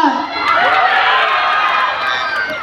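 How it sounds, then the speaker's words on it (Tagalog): The men in the audience at a People's Night event in San Pedro, Laguna, clap and cheer together in a loud, continuous roar of shouting and applause. "Lahat ng kalalakihan ng San Pedro, magpalakpakan na may kasamang hiyawan."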